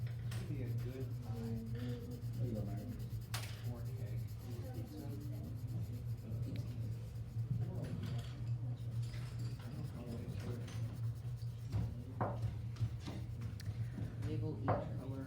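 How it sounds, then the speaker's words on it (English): A blue colored pencil scratches across a paper worksheet in soft, uneven strokes over a low steady hum, with a voice speaking quietly at times. "So I still have the blue color pencil in my hand, so I'm going to find the blue slice"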